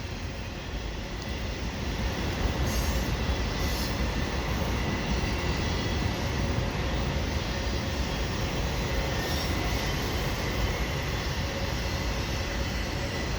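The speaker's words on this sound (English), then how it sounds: "And here comes the end of the train." A CN double-stack freight train passing close at Donegani Street in Pointe-Claire, a loud continuous roar of rolling wagons and wheels on rail with occasional faint squeals throughout.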